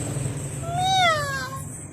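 A single drawn-out cat meow, rising then falling in pitch, heard fairly close over a low background hum.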